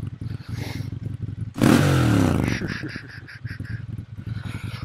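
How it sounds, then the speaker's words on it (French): A Ducati Monster 796 motorcycle engine bursts into a loud, raw rev that swells and fades over about a second, with lighter mechanical clatter and idle burble around it, close by. "La petite Ducati de l'enfer, les gars."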